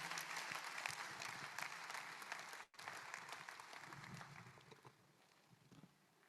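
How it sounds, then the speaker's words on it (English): Audience applause for Monsignor Professor Obiora Ike at a university postgraduate conference, steady crowd clapping with a brief break partway through, then tapering off quieter toward the end. "A round of applause, please."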